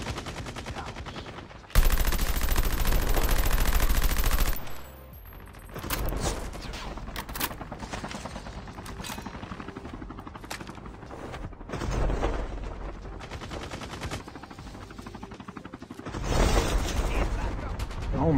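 Rapid bursts of automatic gunfire in the mobile shooter Call of Duty Mobile, loud and close, with long rattling volleys broken by short pauses and scattered single shots, as players talk over the action.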